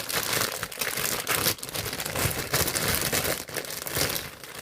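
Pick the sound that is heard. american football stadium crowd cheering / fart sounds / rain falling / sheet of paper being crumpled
sheet of paper being crumpled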